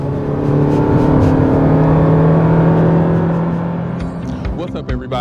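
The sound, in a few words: 2024 Toyota Prius Limited accelerating with wheel spin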